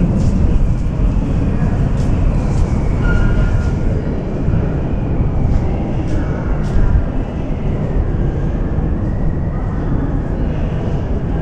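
A metro train at Krestovsky Ostrov station in Saint Petersburg gives off a loud, steady, low rumble and roar, with faint squeals and clanks above it.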